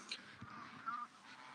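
Ducks in a pen give a couple of faint, short honking calls over a low background hum, distant and brief.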